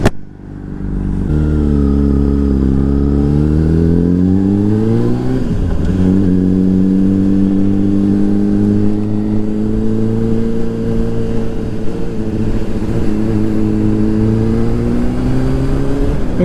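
A Honda CBR sportbike engine with its exhaust baffle fitted revs up loudly, drops back, then climbs and holds a steady high-pitched drone before rising again near the end, close and alone without talk.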